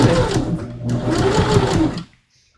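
A sewing machine stitches around the point of a patch pocket in dark, nearly black fabric with contrasting thread, running steadily with a brief pause near the middle, then stopping abruptly.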